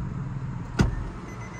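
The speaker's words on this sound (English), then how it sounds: "I love that feeling of the seat rolling back for you and everything" Power seat of an Infiniti G37 motoring backward inside the car, a quiet steady whir beneath the faint cabin hum with one brief thump partway through.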